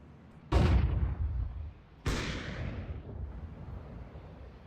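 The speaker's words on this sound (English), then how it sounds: "Flashbang." Two heavy booming bursts from flashbang grenades going off in Counter-Strike, each a sharp loud crack followed by a ringing, decaying rumble about one and a half seconds apart.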